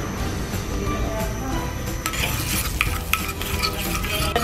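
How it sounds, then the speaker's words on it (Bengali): Butter sizzling in a hot kadai, a steady close frying crackle mixed with scraping and light clinks of a spoon stirring in the pan. "কড়াইটা গরম হয়ে গেছে, এখন আমি বাটারটা দিয়ে দিচ্ছি"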